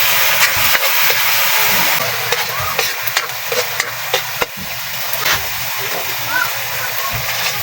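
Mega canned sardines sizzle and hiss in a pan while being stirred, with intermittent scraping clatters and splatters over a steady frying crackle; a voice talks throughout.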